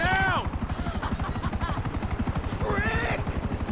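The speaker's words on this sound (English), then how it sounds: "Chopper down, chopper's down. Or one of them is." A helicopter in GTA Online thumps with fast, steady rotor beats close by, while a voice talks over it and a rising whine sweeps up near the start and again toward the end.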